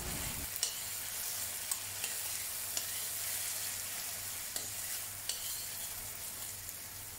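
Chopped tomatoes sizzle and fry in a pan of masala base for lentil dal, with a steady hiss throughout and a few sharp clicks of stirring, close and clear, with no voices.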